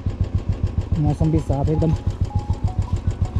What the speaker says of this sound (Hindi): बुलेट भी स्टार्ट है